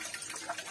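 A baking tray being rinsed under a running kitchen tap, with a steady, close splash of water that rises and falls a little as the tray shifts under the stream.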